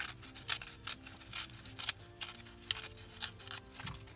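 Paper cutouts of little kids are torn by hand for a large craft tag, giving a run of quick crisp tearing and crinkling bursts up close with small handling noises between them.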